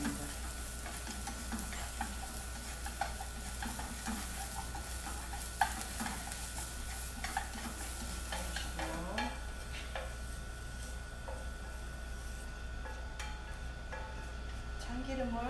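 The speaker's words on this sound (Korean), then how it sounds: "그 다음에 당근을 볶아주겠습니다" Carrots lightly salted being stir-fried in a pan, a continuous sizzle with repeated scraping and tapping of a utensil against the pan, close and steady beneath a constant low hum.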